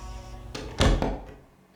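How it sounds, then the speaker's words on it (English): A door is shut with a dull, solid thunk at close range, followed by a brief rattle and a short fading tail in an otherwise quiet room. "Shut the door behind you."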